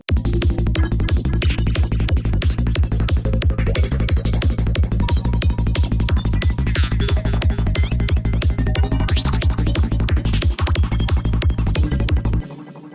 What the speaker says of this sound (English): Today I have a very cool vocoder synth for you.